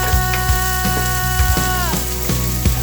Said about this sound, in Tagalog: Masarap kung nagigisa tayo yung medyo kulot brown itong sibuyas, bawang, para makalabas yung aroma niya